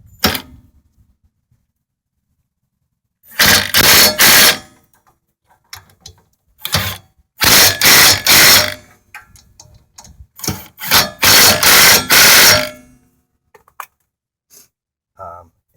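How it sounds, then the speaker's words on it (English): An air impact gun snugs lug nuts on a 2003 Toyota Corolla rear hub in several loud rattling bursts separated by silence and faint clicks. "Then I'll take the air gun, snug them down"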